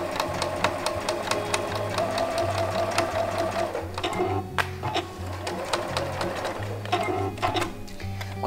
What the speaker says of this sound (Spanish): vamos a coser este lado que nos queda abierto